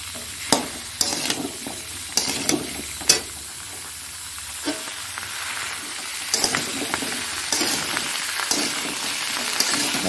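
Potatoes fry in a pan with a continuous sizzle while a utensil repeatedly scrapes and stirs them, leaving sharp clatters scattered across the steady crackle, close and unaccompanied by speech.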